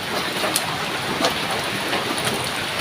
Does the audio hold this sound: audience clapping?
no